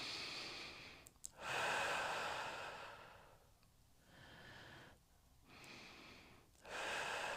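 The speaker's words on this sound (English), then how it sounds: "nice deep breath into your belly" Deep belly breathing during a pregnancy workout for pelvic girdle pain: close, loud, airy inhales and exhales in long slow waves, with no talking.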